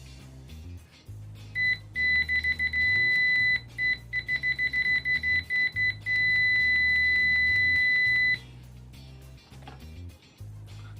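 Sanwa PM33A hybrid multimeter in continuity mode gives loud, steady high-pitched beeps, a few short chirps then a long latched tone lasting several seconds, over a low background hum.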